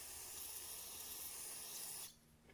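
Aerosol cleaner sprayed through a Weed Eater Featherlite string trimmer carburetor, a steady close hiss lasting about two seconds before cutting off abruptly.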